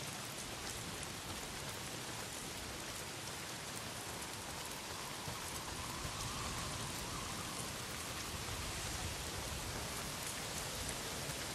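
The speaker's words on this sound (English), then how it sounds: "Well, not if it's pissing down rain." Heavy rain pours steadily in the video game Days Gone, a dense, continuous hiss of downpour with no talk over it.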